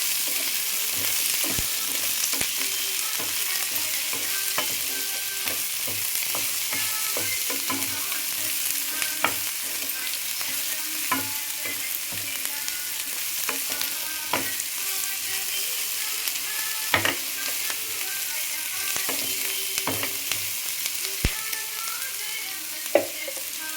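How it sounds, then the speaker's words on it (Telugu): Bitter gourd and sliced onion frying together in a little oil for a kakarakaya ullikaram curry, a steady close sizzle with frequent stirring clicks and scrapes running throughout, no talking. "అవి కూడా వేయించాలి ఉల్లిపాయతో పాటు."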